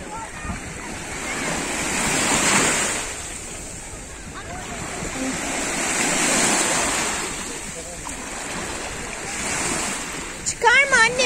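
Sea waves wash in on a beach in slow swells, with wind buffeting the microphone and people talking and calling out nearby over the surf.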